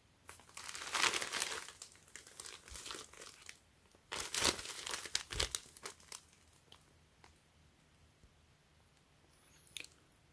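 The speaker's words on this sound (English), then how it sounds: "I always like the Palace packaging and then also their Ziploc bag." A plastic Ziploc bag from Palace Skateboards crinkles close to the microphone in uneven bursts, busiest near the start and middle, then fading into sparse, quiet rustles.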